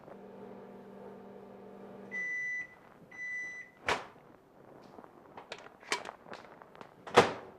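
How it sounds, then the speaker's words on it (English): A microwave hums as it cooks rice, then beeps several times as it finishes, followed by a door click and a few soft clunks and thuds. "put it in a microwave, and it cooks"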